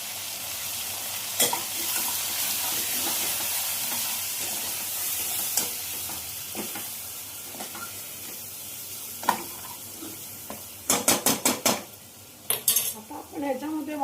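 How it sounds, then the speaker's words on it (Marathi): Prawns and red chili powder go into a hot pan for homemade Malvani prawn gravy, with a steady close sizzle throughout and a quick run of spoon clinks and stirring scrapes near the end. "आता मी थोडे प्रॉन्स टाकत आहे. टाकते त्याच्यामध्ये मी थोडंसं लाल तिखट टाकत आहे."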